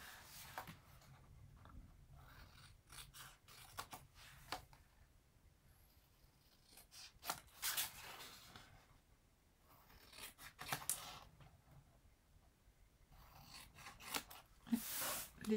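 Scissors snip paper in short bursts while a Christmas scrapbook photo album is assembled, close and quiet, with sparse crisp cuts separated by pauses.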